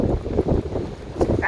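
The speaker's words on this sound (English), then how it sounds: "Windy out." Wind buffets the microphone outdoors on a winter farm, a low rumbling roar that swells and eases in gusts, with a brief higher squeal near the end.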